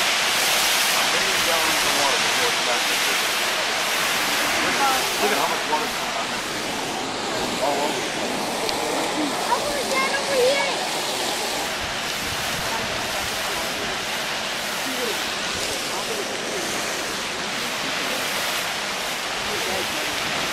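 Giant Geyser in Yellowstone erupts, a constant broad roar of rushing, splashing water that holds steady and loud throughout, with faint voices beneath.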